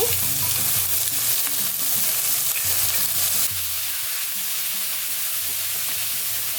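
Winged beans stir-fried with egg and oyster sauce in a hot pan, a steady loud sizzle with repeated scraping stir strokes throughout, no talking.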